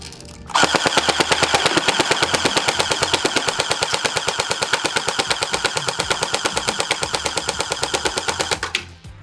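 An Elite Force H&K MG4 airsoft machine gun fires one long sustained burst, a rapid, even stream of sharp mechanical shots that starts abruptly, runs for about eight seconds at close range and stops cleanly.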